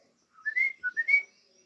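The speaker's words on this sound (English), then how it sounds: "You hear that bird? We have birds here." An outdoor bird sings a quick phrase of four or five clear, whistled notes in a brief burst, fairly close, with nothing else around it.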